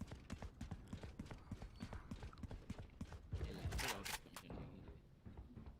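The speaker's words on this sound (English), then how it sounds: "I can hear footsteps." Rhythmic footsteps in the Valorant video game, a quick regular patter of hard thuds close by, followed by a louder burst of clattering noise.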